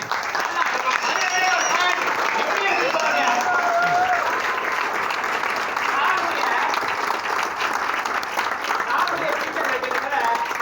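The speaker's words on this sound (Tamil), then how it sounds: "நல்ல ஒரு பாராட்டு கொடுக்கலாமே" Sustained audience applause fills a hall at a company meeting in Madurai, a dense, steady wash of clapping hands lasting throughout, loud and even with a crowd murmur beneath.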